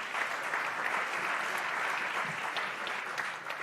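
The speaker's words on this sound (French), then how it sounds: "Merci de l'applaudir." An audience at a conference gathering applauds, with a dense, steady patter of many hands clapping at an even level for several seconds, with no voices over it.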